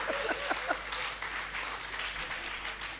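An audience at a Hindi poetry recitation applauds for Anil, a continuous, moderately loud wash of many hands clapping, with a short vocal sound near the start.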